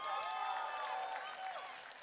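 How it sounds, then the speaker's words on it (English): A crowd cheering and applauding at a FIRST Tech Challenge robotics qualifier for the Saints Robotics team, a steady loud wash of cheers and clapping filling the hall throughout. "A nice loud cheer from them"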